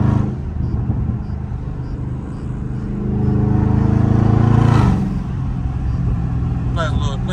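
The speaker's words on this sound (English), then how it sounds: "Gotta let y'all hear that car go." A loud Dodge Charger Scat Pack engine revs and pulls hard through shifts in traffic at night, a rising surge midway over a steady rumble, with someone talking over it.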